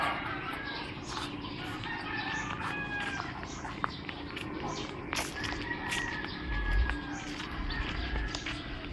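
Chickens cluck and call in the background of an outdoor scene, with scattered bird sounds and a low rumble, fairly faint.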